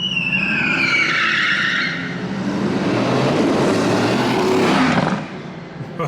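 A supercar skids with screeching tire squeal and engine roar, loud and close, sweeping past in a continuous rush that fades slightly at the end.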